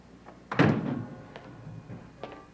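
A house door opens with a solid thunk followed by a fading rattle, then a couple of fainter knocks and bumps nearby.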